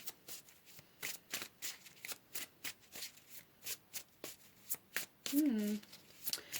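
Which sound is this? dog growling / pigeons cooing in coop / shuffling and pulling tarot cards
shuffling and pulling tarot cards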